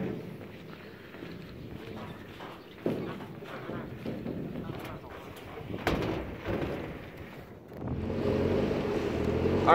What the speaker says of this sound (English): We're in a boat.